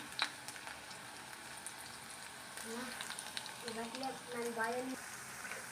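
Potato and coconut bondas sizzle and fry in hot oil in a home kitchen, a steady soft crackle that grows a little busier toward the end while someone talks over it.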